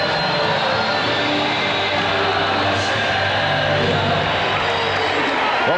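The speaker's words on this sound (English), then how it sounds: "the crowd reacting to the 4-time champion Chicago Bulls" A huge arena crowd roars and cheers for the champion Chicago Bulls at game six of the 1996 NBA Finals against the Seattle SuperSonics, a loud, unbroken wall of noise with faint whoops on top.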